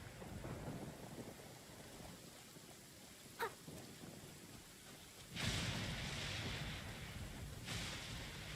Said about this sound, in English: Please stay indoors until the storm passes.